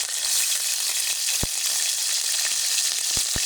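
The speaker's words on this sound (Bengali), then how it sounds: "দিয়ে সামান্য নুন আর হলুদ দিয়ে কিছুক্ষণ নাড়াচাড়া দিয়ে ভেজে নেব" Garlic, ginger and cumin paste fries in oil with salt and turmeric for a Bengali fish curry, a loud bright sizzle that stays steady, with a few sharp knocks of a spoon on the pan.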